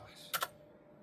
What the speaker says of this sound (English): You just type in the loco you want and it'll bring it up